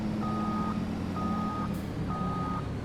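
Truck reversing alarm in Farming Simulator 25, three evenly spaced steady beeps over a constant engine rumble, no talk.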